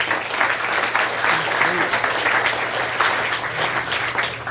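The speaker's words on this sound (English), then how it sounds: "Give him a round of applause." Audience applause fills a room after a participant finishes a hypnosis demonstration, a steady dense patter of many hands sustained throughout at moderate volume, with a faint voice briefly underneath.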